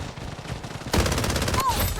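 Rapid gunfire in the shooter game Blood Strike, a fast loud burst of automatic shots over background game noise, with a voice talking.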